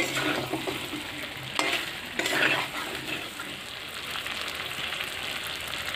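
Chicken masala for a Bengali chicken dak bungalow sautés in oil in a pan, giving a steady close hiss broken by a couple of louder scraping stirs, with no voices.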